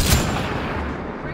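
A grenade blast in Mass Effect: Andromeda starts with a sharp, heavy boom and then trails off into a rumbling, debris-filled decay over about a second.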